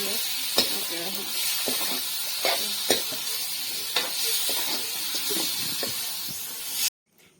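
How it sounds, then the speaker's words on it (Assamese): Marinated local chicken sizzles steadily in a kadai over a lowered flame, a continuous close hiss broken by several sharp stirring knocks and scrapes, ending abruptly in near silence. "মেৰিনেট কৰি থকা লোকেল চিকেনখিনি কেৰাহীত দি দিছোঁ"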